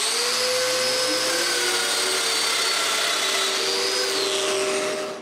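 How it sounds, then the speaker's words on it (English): A steady, loud power drill whines continuously with a high mechanical tone while drilling mortises in walnut, running without pause throughout. "Then I mark where the mortises will be and drill them."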